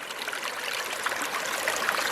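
Steady rushing trickle of a creek running over gravel bars, a continuous close wash of water with no voices.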